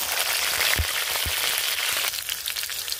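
Cumin, green chilies and bay leaves fry in hot oil in a home kitchen for banana-flower pulao, a steady close sizzle with a couple of soft low bumps from stirring.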